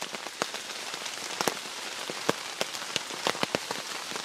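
Rain falls on a camp shelter in the forest, a dense steady patter with sharp individual drops striking close by, no voices.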